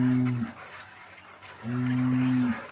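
Cattle low in a village street in the Guzmán neighbourhood, two long, loud moos separated by a brief pause, each a steady deep drone close by.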